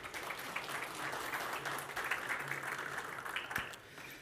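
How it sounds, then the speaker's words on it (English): Audience applause at the CyberShock 2025 cybersecurity conference in ALFA Hall, a steady wash of many hands clapping as a speaker is welcomed onto the stage, with a faint low hum underneath. "Welcome him on stage with a round of applause."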